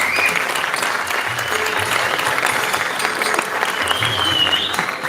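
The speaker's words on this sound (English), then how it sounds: "Can we have a huge round of applause for the movie Chumbak?" A large audience applauds steadily at a film festival concluding ceremony in Pune, dense clapping filling the hall for several seconds as a movie is honoured, with a voice faintly over it.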